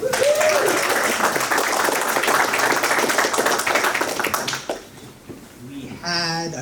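Audience applause at an evening meet-and-greet with elected officials, loud steady clapping filling the room for several seconds before dying away, with a voice and a short whistle-like tone near the end.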